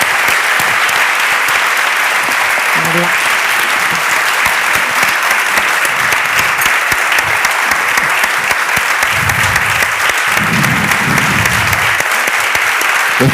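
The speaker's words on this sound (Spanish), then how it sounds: "un fuerte aplauso" Loud, continuous applause from an audience at a literary event for authors Dolores Redondo and Julia Navarro, a dense wash of clapping that runs the whole stretch, with a brief spoken name and some low voices near the end.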